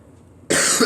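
A person coughs suddenly after a brief quiet moment, a single harsh, loud fit at close range.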